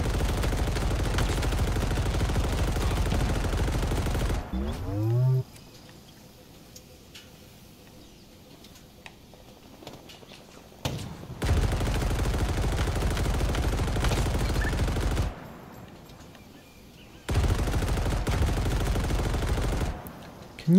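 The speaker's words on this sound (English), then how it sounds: "This turret's pretty powerful." A powerful mounted turret fires in Halo Infinite: loud bursts of rapid gunfire in long sustained stretches, broken by quieter gaps with faint game ambience, then resuming.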